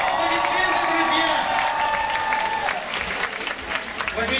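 An audience at a team competition event breaks into sustained applause, steady clapping mixed with some cheering, while a voice talks over it near the start.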